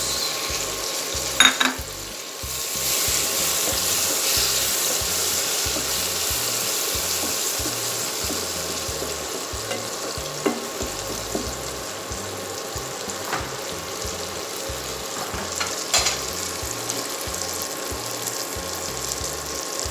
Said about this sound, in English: Now I'm adding the chopped tomatoes.